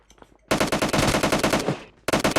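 Rapid automatic gunfire in PUBG Mobile on the Livik map, a loud sustained burst of rattling shots, a short pause, then another burst, with brief faint sounds before the firing starts.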